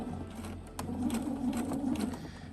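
A sewing machine stitches bias tape in a quiet room, its close, steady mechanical whir running continuously with a faint rhythmic patter.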